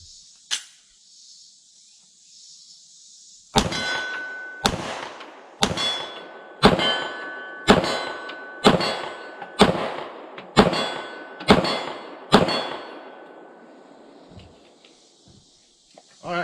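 Walther PDP Pro X pistol firing about ten steady, evenly spaced shots at a 25-yard steel plate, each sharp crack followed by a bright metallic ring, with a faint background hiss and no talking.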